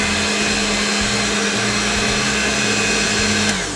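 An electric stand mixer runs loud and close as it mixes ingredients in a bowl, a constant whirring motor drone with a steady hum and no pauses.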